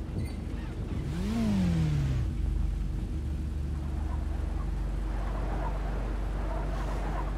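Car engine in a FiveM GTA V roleplay game, a brief rising-and-falling rev near the start, then a steady low drone with faint background noise.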